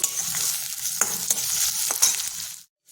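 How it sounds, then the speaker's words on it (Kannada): Chopped onions frying with cumin seeds in a pan give a steady close sizzle, broken by several sharp scrapes and clacks of a spoon stirring, then a sudden drop to quiet. "ಈರುಳ್ಳಿ ಹಾಕಿ ಇದನ್ನು ಚೆನ್ನಾಗಿ ಮಗ್ಗಿಸ್ಕೊಳ್ಳೋಣ ಗೋಲ್ಡನ್ ಬ್ರೌನ್ ಬರೋವರೆಗೂ"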